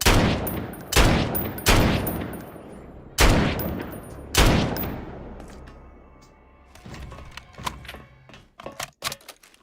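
Gunfire in Garry's Mod: several loud, sharp shots spaced about a second apart, each with a long ringing decay, followed by quieter scattered pops and clatter.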